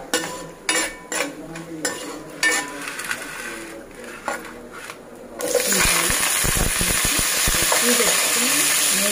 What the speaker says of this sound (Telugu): మసాలా దినుసులు వేస్తాం। ఇవి బాగా ఫ్రై అయ్యాక